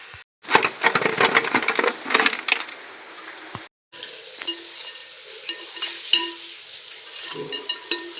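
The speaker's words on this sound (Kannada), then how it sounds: "ಎಲ್ಲ ಫ್ರೈ ಮಾಡಿ ತೆಗಿತೇನೆ" Sukrunde sweet dumplings frying in hot oil, a busy crackling sizzle with stirring clatter early on, then a quieter steady bubbling hiss with scattered pops after a brief gap.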